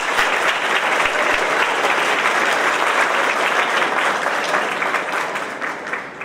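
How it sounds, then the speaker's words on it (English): A school audience at a middle school awards ceremony claps loudly and continuously for several seconds, dense applause that tapers slightly at the end. "let's give the PTC a round of applause"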